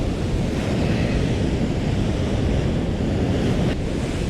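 Ocean surf rolls onto a rocky beach with sharp stones as the tide comes in, a steady loud wash of waves mixed with wind buffeting the microphone.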